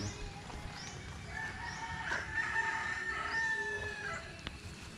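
A rooster crows once in the distance, a faint drawn-out call rising and holding over soft background noise.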